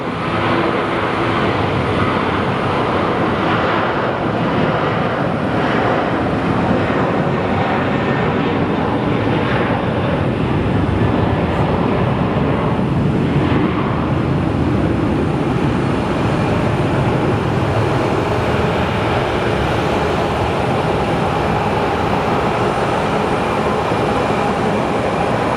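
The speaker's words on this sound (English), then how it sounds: "This plane is loud, you can actually hear it." An airplane at Sky Harbor Airport roars loudly and continuously, a dense broadband engine rumble that holds steady throughout with no voices.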